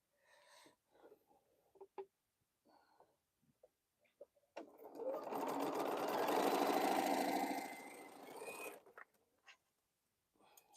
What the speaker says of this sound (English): And let's sew one more piece off.